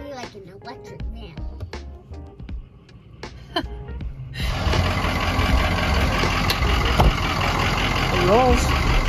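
An old van's engine starts rough and then runs loudly with a steady, rattling idle. People talk over the early part of the clip.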